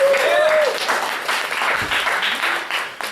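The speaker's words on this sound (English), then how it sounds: "Clap if you like games." Poetry cafe audience breaking into a burst of applause, many hands clapping together at close range, steady for about three seconds before tapering off.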